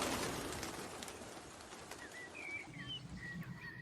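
Pigeons burst into flight with a rush of wing flaps and a few soft coos over a faint, noisy background.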